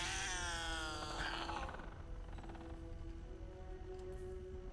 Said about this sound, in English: Cat alert. Cat spotted.